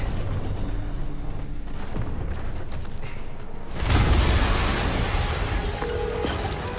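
A loud broadband explosion erupts in Marvel's Spider-Man, cutting in sharply after several seconds of low rumbling game ambience and leaving a dense, roaring wash with mechanical clatter that holds to the end.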